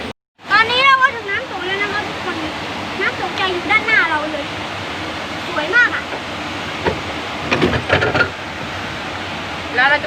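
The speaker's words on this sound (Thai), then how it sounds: "เรามาชมน้ำตกเสร็จแล้ว" A waterfall near Hat Yai gives a steady, rushing hiss that runs through the whole stretch, while children and adults chatter and call out over it close by.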